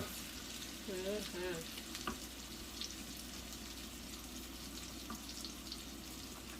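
Steak sears in a hot cast iron pan with a steady, moderately quiet sizzle and crackle; a brief voice-like sound rises over it early on, then the hiss carries on alone.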